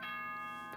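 A short electronic chime from the Danganronpa video game rings once, clear but soft, with a sustained bell-like tone that fades over under a second.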